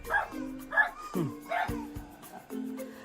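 A dog barks several times in short, sharp bursts with higher yips in between, close by and fairly loud.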